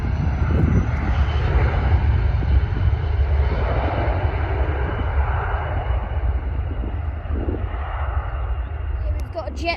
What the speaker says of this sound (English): and Jet2, it operated by Titan Airways, Airbus A321, taking off